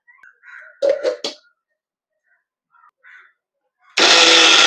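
A mixer grinder starts up near the end, grinding soaked dal without water into a loud, steady whirring roar after brief talk and quiet handling sounds.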